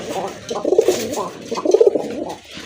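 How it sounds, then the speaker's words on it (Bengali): A male Rajgolla pigeon gives two close, rolling coos with a short pause between them. There is light background noise and the coos are fairly loud. "আর এটা ডাকের সাউন্ডটাও কিন্তু মাশাআল্লাহ অনেক ভালো।"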